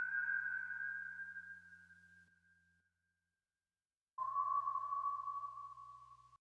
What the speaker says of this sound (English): I add this little whistle texture